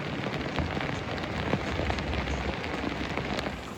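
Rain patters steadily on a sailing boat moored near Menton, a dense, even hiss of drops with scattered sharper taps throughout, close by and continuous with no voices.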